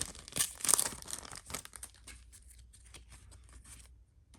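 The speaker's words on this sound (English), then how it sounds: "I'm trying to be gentle with the cards here." Holographic NBA trading cards are handled close up, with a short burst of crisp crinkling and sliding at the start that tapers into faint, sparse rustles.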